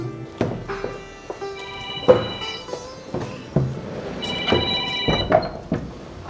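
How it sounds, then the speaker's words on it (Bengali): A phone ringtone plays nearby in two melodic bursts of sustained tones over a thumping, beat-like pattern. "ও আমার জামাই ফোন দিয়েছে।"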